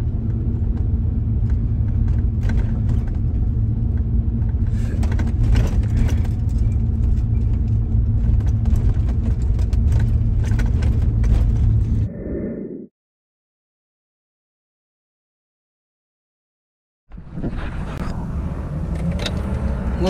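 Several drag-strip cars, including a turbo car, idle with a loud, steady low rumble that cuts out abruptly to silence for a few seconds, then returns just as loud.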